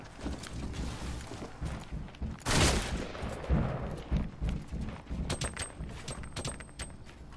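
Gunfire in Fortnite Battle Royale crackles in repeated scattered bursts over several seconds, including one loud heavy blast early on, with mechanical game sounds between shots.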